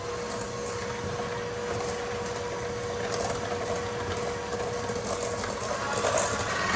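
An electric mixer beats an egg into creamed butter and sugar for pumpkin spiced whoopie pies, giving a steady motor whir with a faint rattle against the bowl, close and continuous, with no talking.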